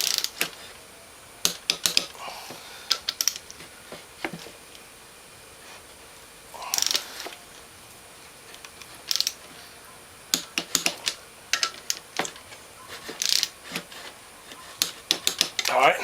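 A torque wrench ratchets and clicks while engine rod bolts are tightened to final torque during a Kawasaki Brute Force motor reassembly, with short bursts of sharp mechanical clicking spaced through a quiet shop and occasional talk.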